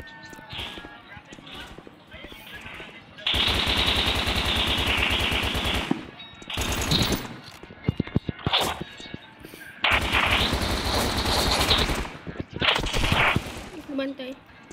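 Automatic gunfire in the mobile shooter game Blockpost Mobile comes in two long rapid bursts with shorter shots between, loud and dense, while a player talks over it.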